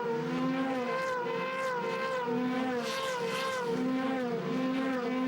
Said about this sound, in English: All these cars with highly tuned V8 engines, very sophisticated race cars, of course, and Häkkinen continues in the lead.